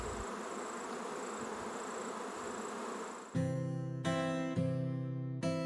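Worker bees buzzing in a steady, dense drone during summer in Tasmania's Central Highlands, then a louder run of harmonic tones breaks in and stops and starts several times near the end.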